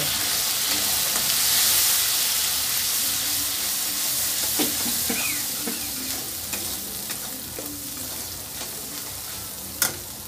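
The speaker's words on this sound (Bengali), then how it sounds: "আর দেব ধনে গুঁড়ো দিয়ে আমি ভালো করে এটাকে মশলাগুলোকে কষিয়ে নেব" Chilli powder, coriander powder and other spices fry and sizzle in a pan with oil for a chicken dish, a steady close hiss broken by scraping stirs and a sharp clink near the end.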